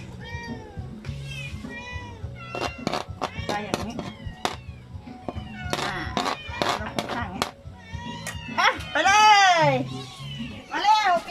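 Stray cats at a shelter in Krabi, Thailand, meow repeatedly at feeding time, many overlapping cries near and loud, growing more insistent toward the end, while people talk underneath.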